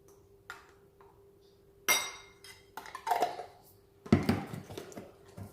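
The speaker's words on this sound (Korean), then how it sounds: "설탕 조금 마요네즈 설탕 을 섞어줍니다." A spoon stirs mayonnaise and a little sugar into a sauce in a dish, giving quiet scraping and a few sharp clinks in separate bursts close by.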